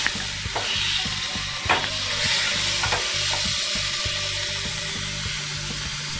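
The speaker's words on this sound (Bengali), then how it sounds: "এবার ম্যারিনেট করা চিকেনটা আমি দিয়ে দিচ্ছি।" Marinated chicken frying in a pan with onion and tomato, a loud continuous sizzle close up, with rhythmic stirring scrapes and clicks of a spoon throughout.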